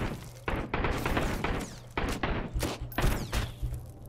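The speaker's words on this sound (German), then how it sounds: "Immerhin, der letzte Schuss hat noch getroffen." Gunfire rings out in the Sunkenland survival video game: a series of sharp, loud bangs at irregular intervals over a low steady background hum, with no speech.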